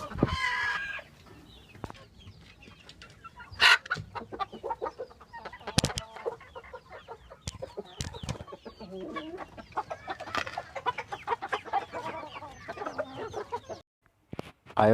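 Chickens in a backyard poultry coop cluck and squawk in a busy, overlapping stream of calls, with a few sharper, louder cries standing out near the start and middle; no one speaks.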